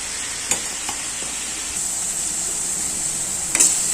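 Tomato and onion mixture for a tomato kuzhambu sizzling steadily in a pan, with a few sharp spoon scrapes as it is stirred, close and alone without talk.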